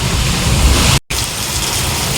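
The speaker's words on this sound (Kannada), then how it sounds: "ಮಳೆ ಸ್ಟಾರ್ಟ್ ಆಯ್ತು ನೋಡ್ರಿ, ಎಷ್ಟು ಜೋರು ಬರತೈತಿ." Heavy rain pours down with gusting wind, a loud, dense and continuous hiss that cuts out for a split second near the middle before resuming just as strongly. No one speaks.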